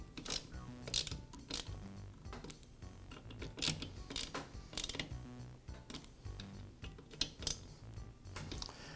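Screws being tightened on an ignition module of a Poulan chainsaw during repair: a steady run of small clicking, ticking mechanical sounds at close range, repeated throughout with no speech.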